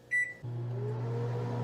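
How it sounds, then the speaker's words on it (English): A microwave oven beeps once as it is started, then its steady low hum runs on continuously, close and even, with no voices. "Microwave burst of 1 minute."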